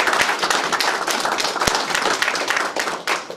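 A small crowd claps at a business ribbon cutting, a lively cluster of close hand claps with a few sharp individual slaps, fading slightly near the end.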